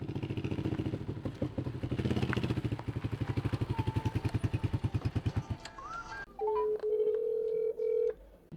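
A phone number is punched into a telephone, giving a rapid run of buzzy, pulsing keypad tones over a rough background rattle, then a few separate steady beeping tones at the end, with no talking.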